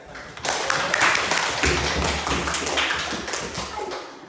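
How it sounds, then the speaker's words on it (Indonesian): A classroom group claps together in a dense, steady burst that builds quickly and carries on for several seconds before gradually thinning out, loud and close with no talk over it. "Tepuk tangan."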